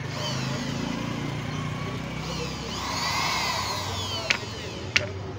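A YDK 90-watt sewing machine motor runs with a steady whir, its pitch rising and falling slightly, followed by two sharp clicks near the end.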